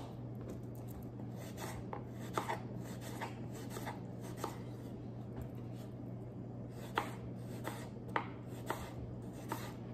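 A knife slicing salad vegetables on a board, with regular soft chopping strokes, several sharper cuts standing out, over a low constant hum in a quiet room.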